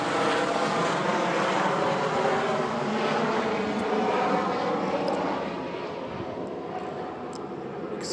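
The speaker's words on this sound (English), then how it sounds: "Excuse the helicopter." Helicopter flying overhead a home garden in July, a loud, broad rotor and engine roar filling the background that eases slightly toward the end; no speech.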